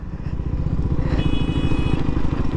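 A KTM motorcycle on a road ride to Gajoldoba throbs with a loud, close, steady engine note and rapid even pulsing, with no voices.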